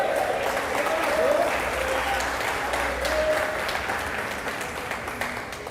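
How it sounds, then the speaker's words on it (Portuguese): A church congregation applauds during an evening sermon, a steady, dense wash of clapping from a large room that holds throughout and slowly eases toward the end, with faint voices underneath. "Você pode dar uma glória a Deus e aplaudir a Jesus nessa noite?"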